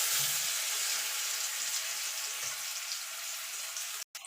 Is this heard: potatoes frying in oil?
yes